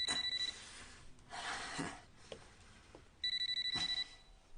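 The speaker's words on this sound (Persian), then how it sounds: "زنگ میرود اما نمیبردارد." A telephone rings in repeated electronic trills, two ring bursts separated by a pause, with faint background noise between.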